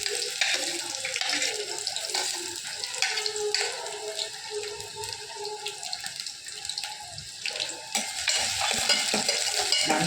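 Finely chopped large onion sautés in oil with popped mustard seeds and urad dal, a broad steady hiss and sizzle with stirring scrapes, fairly quiet and close.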